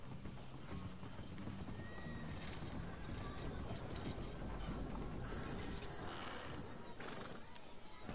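Horse hooves clip-clop at a trot with occasional neighs in Red Dead Redemption 2, mixed into a dense, busy game soundscape with mechanical clatter and some voices.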